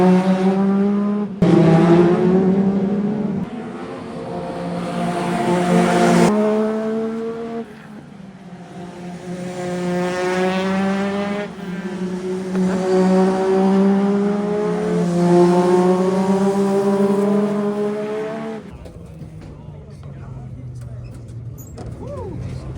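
A Ford Mustang GTD driven fast on a race track, its engine roaring loud and close and rising and falling in pitch through gear changes, with a sharp cut near the end.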